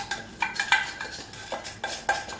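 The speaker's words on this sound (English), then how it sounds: "we're going to go ahead and use our spoon, wooden spoon, to stir this" Wooden spoon stirring sugar into boiling water in a pot while brewing kombucha, a string of close, uneven scrapes and knocks against the pot with short clinks in between.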